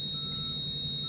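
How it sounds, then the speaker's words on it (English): Steady electronic warning beep from a Toyota Prius with a brake fault, a continuous high tone holding unbroken and fairly loud for the whole moment with no talk over it. "There's always this beeping in the background."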